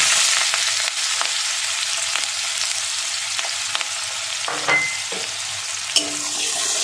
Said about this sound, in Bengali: পেঁয়াজ কুচিটা 1 মিনিট নেড়ে নেব